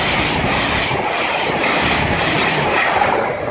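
A Class 800 train bound from London King's Cross to Inverness passes close by, a loud, steady roar of rolling wheels and rail noise with faint clickety-clack, holding throughout and easing slightly at the end.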